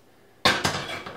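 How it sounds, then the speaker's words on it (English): A hot Dutch oven lands on a stovetop with a sharp metallic clunk after a moment of quiet, followed by a second softer knock and a fading, ringing rattle. "Let's get the hot Dutch oven on the stove top."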